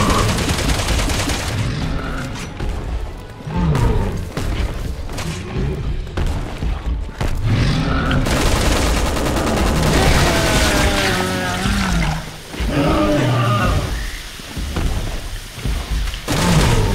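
Gunfire in the video game Resident Evil 6 fills the scene with loud, dense bursts of shots and booming impacts, heavy and continuous throughout and layered over game effects.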